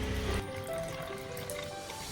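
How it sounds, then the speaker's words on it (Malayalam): Water poured into a garden spray bottle used for watering vegetables, a steady close trickle and fill sound with a thicker gush at the start, heard alone without talk. "അപ്പോൾ അതിനകത്ത് വെള്ളം ഒഴിക്കാം."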